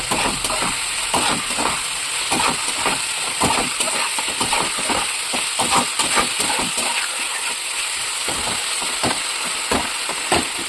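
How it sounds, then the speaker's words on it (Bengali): Brinjal and pointed gourd frying in hot oil with spices, giving a continuous hissing sizzle broken by steady, rhythmic scraping of a spatula in the pan, close and even, with no speech. "বেগুনের পটলটাকে সুন্দর করে ভাজবো।"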